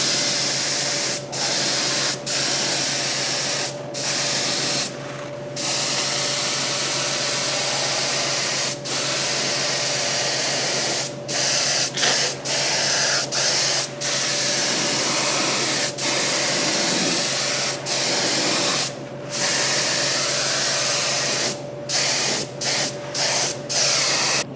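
A small paint spray gun hisses in repeated bursts while coating car door jambs, each spray a few seconds long with brief gaps between, steady and close, over a faint constant hum, with no talking.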